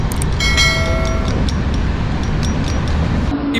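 The Chennai Mangalore Super Fast, train no. 12685, rolls along at speed, a loud steady rumble of wheels and carriage noise with faint squeals and rattles near the start.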